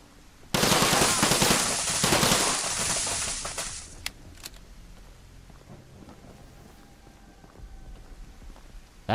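A gun firing in a video game: a loud, rapid burst of automatic fire lasting several seconds, then a couple of sharp single clicks and quiet background hum.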